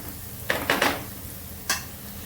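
Turmeric is sautéed in oil in a pan for a cheese sandwich filling: a soft sizzle runs underneath while a spatula strikes and scrapes the pan three times in quick succession, then once more after a pause.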